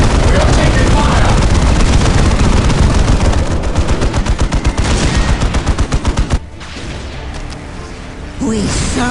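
Loud sustained gunfire in the video game Warhammer 40K Dawn of War Soulstorm, a dense rapid rattle of shots with booms that slows into distinct pulses before dropping to quieter battle noise.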